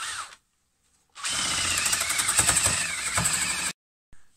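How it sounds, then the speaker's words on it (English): A power drill with a spade bit bores a hole through wood, a steady high whine lasting about two and a half seconds, close and loud, after a short burst of the drill spinning up. "I'm going to drill two boring holes all the way through"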